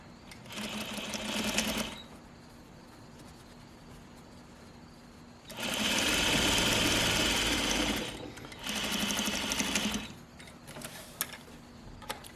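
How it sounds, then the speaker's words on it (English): A sewing machine stitching a seam on pajama fabric at half an inch, running in three steady bursts of close, even mechanical whirring separated by quiet pauses. "I'm going to go ahead and sew mine together right here."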